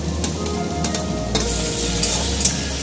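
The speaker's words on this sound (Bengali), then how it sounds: "এবার দিয়ে দিচ্ছি টমেটো," Tomatoes tipped into onions already frying with cumin seeds and bay leaf, giving a loud close sizzle with stirring scrapes and a few metallic taps, no voices.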